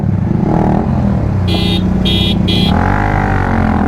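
Bajaj Pulsar 220F motorcycle accelerating hard in first gear during a race against a Yamaha R15 V4, its loud close engine roar rising in pitch, while three short horn beeps sound over it midway.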